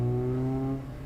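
A Mazda Miata race car drones through an autocross course with a steady, loud engine tone that eases off near the end, with no voices.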